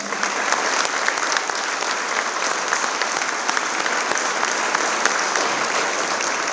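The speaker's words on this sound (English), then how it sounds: "So if we could give them a round of applause." Audience applause for the school board at a middle school dedication ceremony, a loud, dense, sustained round of clapping from a large crowd that holds steady throughout.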